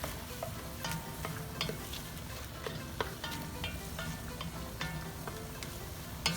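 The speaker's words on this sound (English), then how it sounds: "Just gonna cook the tomatoes a little bit, let it flavors come out." Tomatoes sizzle in a pan for gluten-free vegan rasta pasta, a steady close crackle and hiss with scattered stirring clicks and scrapes, no voices.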